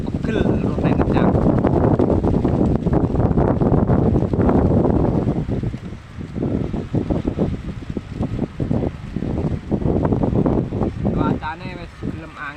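Strong outdoor wind gusts roar across the microphone with a steady rushing blast that eases partway through, then returns in choppy bursts.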